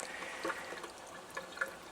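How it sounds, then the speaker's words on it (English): Purified water streams from the flexible stainless steel spout of an Athena JS-205 water ionizer, a quiet, close pour with faint trickling and small drips. "only the purified water out of the flexible stainless steel spout"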